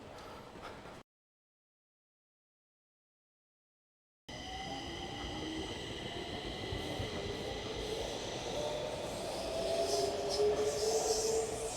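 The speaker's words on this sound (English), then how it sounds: "Train coming in on this platform" A metro train rumbles into Högdalen station with a rising hum and squealing brakes after a brief silence, growing louder as it pulls in.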